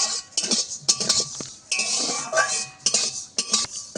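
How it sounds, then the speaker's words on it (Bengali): Rice grains are dry-fried in a pan and stirred constantly while making chaler naru. A metal spoon scrapes and clinks against the pan in irregular bursts, close and fairly loud, with no talking. "আর চালগুলো ভাজার সময় সমানে নেড়ে চেড়ে যেতে হবে।"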